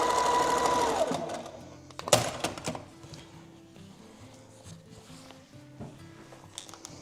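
A sewing machine stitches quilt pieces for a flag quilt, running in a steady whirring burst at first, then quieter intermittent mechanical hums and clicks, close and clear with no talking.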